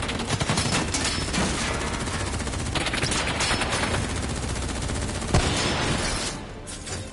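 Sustained automatic gunfire in the Call of Duty Black Ops 3 video game, dense rapid bursts of shots filling several seconds, loud and continuous with a brief lull near the end.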